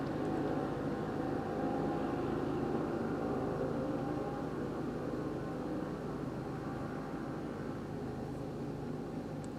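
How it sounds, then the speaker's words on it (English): Somebody's vehicle engine rumbles far away as a faint, continuous low drone with a steady hum. It stays constant throughout, with no other clear sounds on top. "I'm pretty sure it's somebody's engine"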